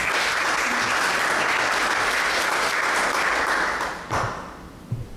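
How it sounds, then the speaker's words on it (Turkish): An audience at an opening session of a business event in İzmir applauds loudly and continuously, a dense wash of clapping that fades out near the end, followed by a few isolated sounds. "E, alkışlarınızla."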